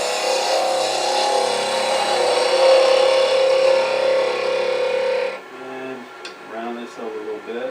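A wood lathe's gouge cutting a spinning wooden piece for a bug pull toy, a steady loud tonal whirring and scraping for about five seconds that then stops, followed by quieter intermittent sounds.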